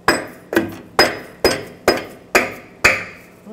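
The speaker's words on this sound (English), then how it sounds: "let's see if the wrench can get it. This is a 22 millimeter wrench" A 22 mm wrench works loose an upstream oxygen sensor on a 2009-2010 Ford F-150 with a 5.4L V8: seven sharp metallic clanks in an even rhythm, close and crisp, each ringing briefly before the next.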